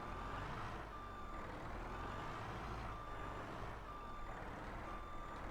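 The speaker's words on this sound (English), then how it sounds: "This is a nice skid steer though" Skid steer loader in Farming Simulator, a steady diesel engine drone with a repeating reversing beep sounding about once per second throughout, close and continuous with no talk.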